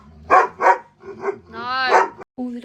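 Hungry dogs waiting for breakfast let out a couple of close, loud barks, then a softer yip and a drawn-out whining howl, ending in a brief bark.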